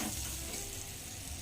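Hot mustard seeds and asafoetida tempering sizzling as they hit handvo batter of semolina and gram flour, a steady close hiss of frying oil that runs throughout, with no talking.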